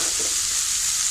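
Chopped ridge gourd and onion hit a hot pan with curry leaves, giving a loud, continuous hissing sizzle close up.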